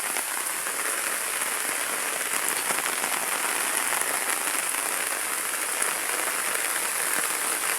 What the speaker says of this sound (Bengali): দেখুন প্রচুর বৃষ্টি হচ্ছে,